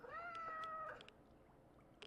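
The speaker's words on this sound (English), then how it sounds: "I thought that was a cat." A cat-like meow in S.T.A.L.K.E.R. 2: Heart of Chernobyl, one drawn-out wavering tonal cry lasting about a second, fairly faint, followed by quiet ambience with a few soft clicks.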